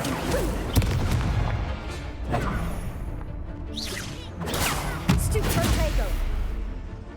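Hogwarts Legacy combat as the Incendio fire spell is cast, loud booming blasts and crackling whooshes over constant dense rumble, with a voice speaking between the impacts.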